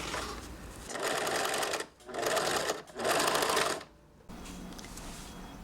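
A sewing machine stitches binding onto a bolero armhole in three bursts of rapid mechanical whirring separated by short pauses, close and loud, with the fabric handled between runs.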